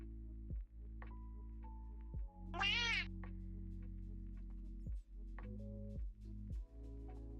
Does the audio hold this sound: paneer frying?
no